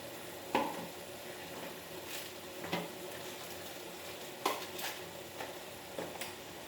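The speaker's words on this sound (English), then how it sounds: "Fry this all nicely." Mushrooms with kitchen king masala fry quietly in a pan: a soft continuous sizzle broken by several distinct spatula scrapes and knocks against the metal.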